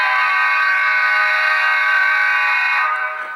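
Horn of an HO scale Fox Valley Models GP60 model locomotive: one steady, loud multi-tone blast held for about three seconds, then fading at the end, with no talk.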